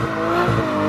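A 720-horsepower Mercedes A45 AMG engine revving hard, a loud, close roar with a rising swell midway through one short burst, no voices.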